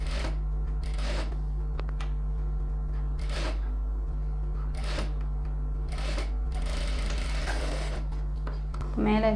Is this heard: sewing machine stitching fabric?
yes